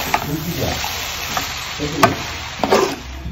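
Chicken noodles with coriander leaves are stirred in a pan over a faint sizzle, with a few distinct scraping strokes and spatula knocks spaced out, close and moderately loud, without speech.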